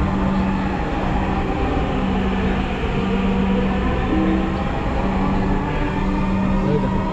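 A Dhaka metro rail train bound for Motijhil hums steadily from inside the carriage, with a continuous rolling rumble and a faint electric whine under occasional quiet voices.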